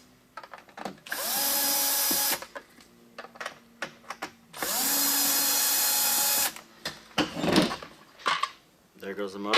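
A power drill backs out screws on the motor cover of a bypass valve sensor assembly, two sustained whirring bursts of about a second or two each, close and loud, with small clicks and handling knocks between them.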